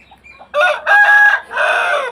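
A rooster crows loudly and close by among chickens, two drawn-out crowing phrases following a few faint clucks, with no talking.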